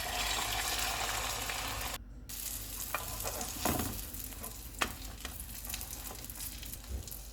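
Masala French toast frying in hot oil on a lowered stove flame, a steady close sizzle broken by a brief silence, then softer crackling with occasional clicks and scrapes.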